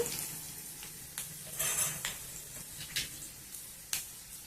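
Mustard seeds, cumin and toor dal fry in hot oil with a steady soft sizzle, broken by occasional scrapes and clinks of a stirring spoon in the pan, close and quiet, with no talking.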